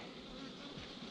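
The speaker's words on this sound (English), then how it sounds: "lots of bees." A dense, steady buzzing of many honey bees around opened hive frames in eastern North Carolina fills the air, close and continuous, with no voices.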